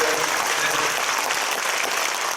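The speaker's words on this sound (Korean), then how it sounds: "김한성 목사님 박수 한번 해주세요" A church congregation applauds to honor a pastor during a sermon gathering, producing a steady, dense roar of many hands clapping at even loudness from start to finish, with no speech over it.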